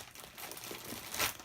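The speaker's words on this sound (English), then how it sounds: "let's do the unwrapping first" Plastic packaging being unwrapped from Audio-Technica ATH-M20x headphones, with close, continuous crinkling and a louder crackle near the end.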